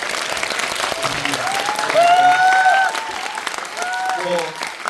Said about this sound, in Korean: 마지막으로 이 네 분께 큰 박수 한번 부탁드리겠습니다